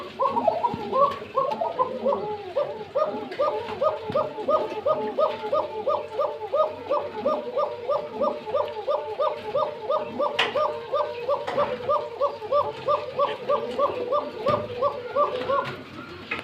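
Pigeons for sale at a breeder's farm coo in rapid, repeated rhythmic calls, a close, steady run of throaty bursts lasting throughout, with a faint dog bark in the background.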